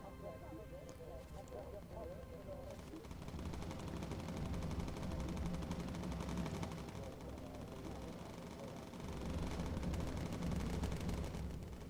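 Ball turret gunfire in the Bomber Crew video game, with continuous rapid machine-gun bursts and explosions blending into a steady, dense roar of aerial combat. Speech is likely present at times.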